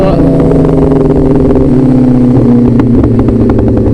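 Kawasaki ZX10R sport motorcycle engine revving loudly at an airfield, a steady, close, droning harmonic roar that rises and falls in pitch, with voices talking over it throughout.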